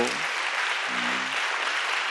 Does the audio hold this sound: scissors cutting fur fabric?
no